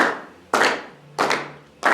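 Three sharp hand claps at an even, slow pace while counting beats in a music theory lesson, close by and loud, each leaving a brief ringing decay in the room.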